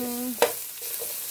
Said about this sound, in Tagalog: Luto na, nag-brown na ang luya.